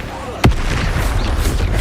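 Casting the Expelliarmus spell in Hogwarts Legacy releases a sharp, punchy burst followed by a rumbling, crackling tail that carries on at moderate loudness.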